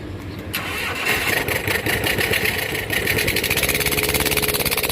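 A home-repaired motorcycle kicks into life after a brief crank, then settles into a loud, steady idle with a rapid mechanical chatter that runs through to the end, heard close up.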